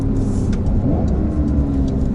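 A 2020 Porsche 911 Carrera 4S (992) engine revving hard under heavy throttle on a road drive, a loud steady mid-pitched roar rising and holding for about two seconds with road noise underneath.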